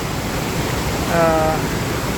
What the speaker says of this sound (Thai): ก็เลยได้บรรยากาศแบบนี้ ที่น้ำตกเหวสวัสดครับ